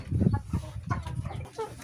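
Desi chickens on an integrated farm clucking in short, close, busy bursts, a few hens overlapping with no speech.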